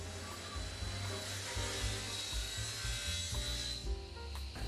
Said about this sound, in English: Cutting off a big slab now on the docking saw